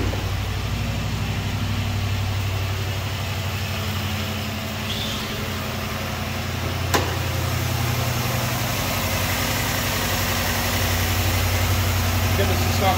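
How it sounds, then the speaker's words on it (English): A 2019 Ford F-350 Crew Cab pickup engine idles steadily throughout, a continuous low rumble with a faint click partway through and some background noise. "And I'll fire it up for you so you can have a listen to it."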